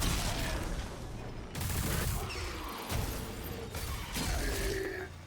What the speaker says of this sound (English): Let's kill all of these bastards real quick with my skull gun.